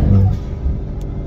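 Engine of a 2020 Ford Explorer ST with a DMS tune revving hard toward 6000 RPM, a loud, close, brief low rumble that swells early and then holds steady.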